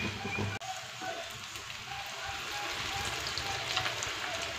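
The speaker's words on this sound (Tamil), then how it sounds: "இப்போ நம்ம வந்து இந்த லாலிபாப் வந்து ஃப்ரை பண்ணிக்கலாம்" Chicken lollipops fry in hot oil, giving a continuous, even crackling sizzle at moderate loudness that holds steady throughout without any talk.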